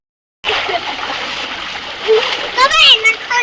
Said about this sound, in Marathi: म्हणजे डोंगराच्या तिथून हे पाणी येत आहे